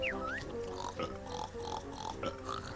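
A cartoonish pig from the video game Yooka-Laylee oinks and grunts in several short bursts, close and fairly loud, over steady game music and background sound.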